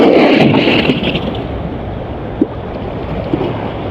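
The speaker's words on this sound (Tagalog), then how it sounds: "lakas ng alon kasi ano" Strong sea waves washing onto a shore where people fish with nets and gather seashells, a steady loud broadband roar with wind buffeting the microphone and a couple of brief splashes, no talk.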